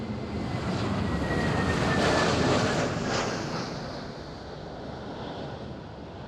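An airliner attempting to land in rough conditions, a broad roaring engine rush mixed with wind buffeting that swells to a peak and then slowly fades.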